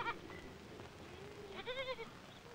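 Sheep on the high puna bleat twice, a short faint call followed by a louder, wavering bleat nearby, over soft outdoor background noise.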